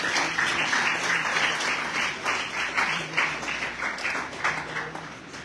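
A school audience at a poetry recitation competition gives hearty applause, a dense run of claps with slight pulsing accents that stays strong before tapering a little, with no speech heard.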